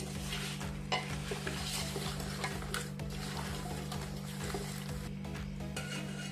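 Yogurt is stirred into a dum biryani mixture with moist, irregular squelching and scraping strokes over a steady low hum, close and fairly quiet, with no talking.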